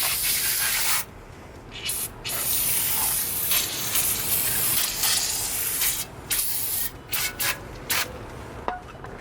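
Brake cleaner sprayed from a can onto a disc brake caliper, long loud hissing bursts with brief gaps and a string of short sputtering sprays toward the end, close up with no voices.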